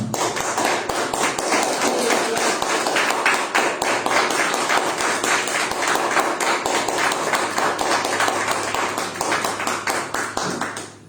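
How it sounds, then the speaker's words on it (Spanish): A church congregation at a Sunday service bursts into sustained applause, many hands clapping in a dense, rapid patter that stays loud throughout before tapering off at the end. "Denle un aplauso al Señor"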